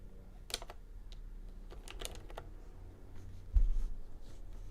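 Computer keyboard typing in clustered bursts of keystrokes, close and moderately loud over quiet room tone, with a brief louder thump near the end.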